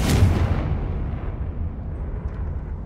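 The Confringo fire spell in Hogwarts Legacy bursts with a loud, close explosion, then trails into a long rumbling, crackling decay with no one talking.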